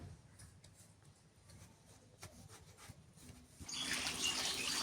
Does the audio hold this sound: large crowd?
no